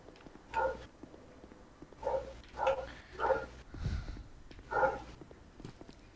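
A dog barks in the video game Dark Souls 2: Scholar of the First Sin, giving five short barks at uneven intervals, moderately faint, with a brief low thump between them.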